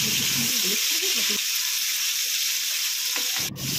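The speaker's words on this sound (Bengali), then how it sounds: "মাছগুলো এক এক করে ভেজে নিচ্ছি।" Prawns fry in hot mustard oil in a wok on a stove, a loud continuous sizzle that fills the whole stretch, with a few low knocks early on and a brief clatter near the end.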